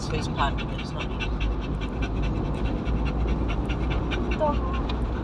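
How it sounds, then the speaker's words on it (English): A dog pants rapidly and steadily up close, with a faint whimper or two, while a person talks over it, in a car on Scottish roads. "Dog really needs a drink. That's who's panting, it's not me."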